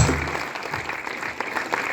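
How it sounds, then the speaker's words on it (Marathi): An audience at a program honouring soldiers gives a brief round of strong applause, a dense, steady clatter of many hands. "त्यांच्यासाठी जोरदार टाळ्या होऊ द्या"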